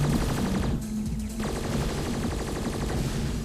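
Rapid machine-gun fire from a Sony PSP shooter video game, loud, evenly spaced automatic bursts that briefly pause and then resume steadily over a droning game background.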